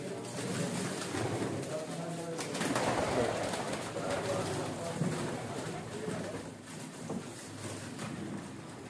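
Soft cooing of teddy pigeons repeats amid a busy background, with people talking nearby throughout.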